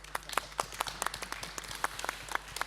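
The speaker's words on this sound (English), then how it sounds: "Big applause." A small group at a conference on water cooperation claps at close range, uneven separate claps for a few seconds rather than a full ovation.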